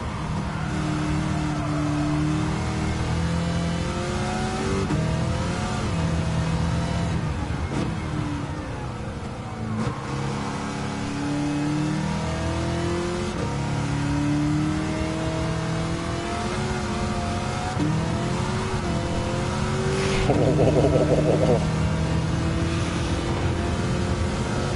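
A racing car's engine in a video game revs and accelerates steadily, a loud, continuous droning whine that rises and falls through gear shifts, close and alone.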